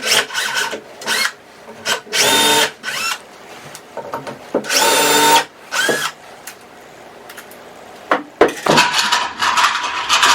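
A power drill drives screws through a solid cabinet back panel in a series of loud whirring bursts, with quieter handling and rubbing noises between them and no talking.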